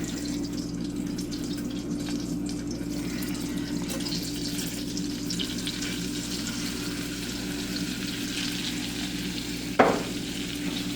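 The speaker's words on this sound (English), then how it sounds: "we're going to stir this so that this will actually thicken our sauce up" Flour is stirred into a beef stir-fry sauce frying in a pan, with a steady close sizzle throughout and a single sharp clink near the end.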